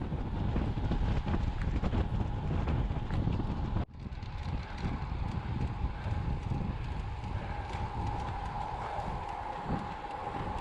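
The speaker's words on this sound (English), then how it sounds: "The wind starts to pick up." Steady roar of wind buffeting the microphone during fast outdoor endurance training, continuous and close, with a brief dropout near the start before the gusty rush resumes.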